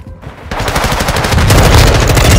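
Rapid automatic gunfire in Call of Duty: Modern Warfare bursts in after a brief quiet moment, then continues as a loud, dense, fast rattle of shots for the rest of the clip.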